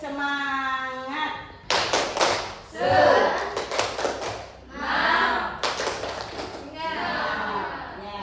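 A classroom of students doing a rhythmic spirit clap in bursts of quick patterned claps, loud and close, with a teacher's voice leading between the rounds.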